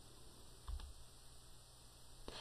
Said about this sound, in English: if I press Enter 1 more time, it will force yet another line